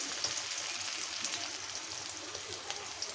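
Chillies, chopped onion and garlic fry in a pan, giving off a soft, continuous sizzle with fine crackling pops, fairly quiet and steady with no voices over it.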